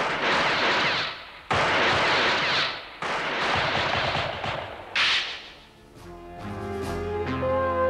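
Cannon shots from an animated series, a borrowed cannon set off on command: three loud broadband blasts in a row, each a sustained roar, then a short whooshing burst fading into a ringing, tonal tail.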